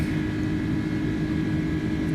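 An American Airlines A310 airliner in Microsoft Flight Simulator is hand flown, producing a steady, unbroken roar of engine and cockpit drone that stays even in loudness throughout, with no voices.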